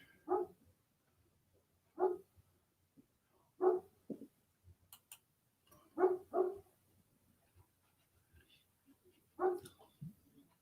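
A dog outdoors barks at a distance in single or doubled barks about every two seconds, six or seven in all, with quiet gaps between them.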